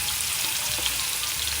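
Cuban style meatballs browning in a pan give off a steady, close sizzling hiss with light crackles, continuous and fairly loud.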